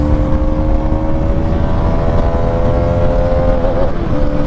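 A Hero Karizma XMR210 motorcycle engine pulls hard during a ride, a loud continuous close-up drone with a steady rising pitch under rushing wind.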